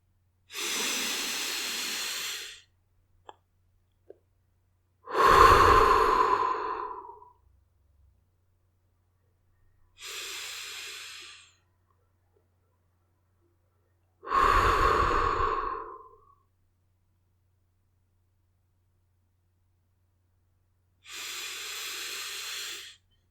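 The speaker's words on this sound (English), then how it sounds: "take a big slow breath in through the nose and out through the mouth" Five slow, deliberate breaths, each drawn in through the nose and let out through the mouth during a guided children's meditation. Each airy rush lasts about two seconds, separated by long silent gaps, close and clear.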